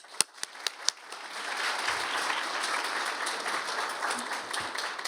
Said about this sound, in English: So I thank you with an applaud.